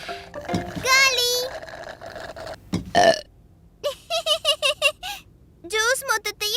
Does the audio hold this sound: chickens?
no